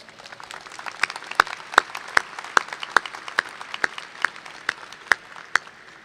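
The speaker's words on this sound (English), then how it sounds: "Let's give all these wonderful alumni a big round of applause." Commencement audience at New Jersey City University gives alumni a sparse, moderate round of applause, with distinct individual claps ringing out over a softer bed of clapping in a large room.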